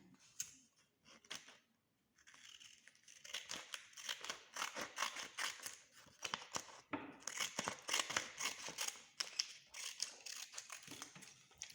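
Repeated snips and crisp slicing of scissors through paper, close up, in uneven bursts after a brief quiet start, with some rustling between cuts.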